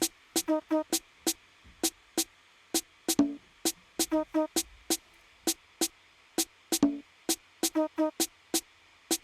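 Layered percussion groove: conga hits mixed with crisp clicking and tapping in a steady repeating pattern, punctuated by a couple of deeper tones.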